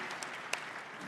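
Conference attendees at the Future Investment Initiative applaud, a soft, distant, even patter of many hands with a couple of sharper individual claps standing out briefly.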